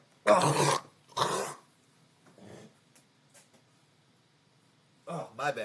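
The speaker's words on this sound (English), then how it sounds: "I've been coughing up strep throat for like the last week" Two sharp, close coughs in quick succession from a man with strep throat, followed by quieter throat noises and a short burst of talk.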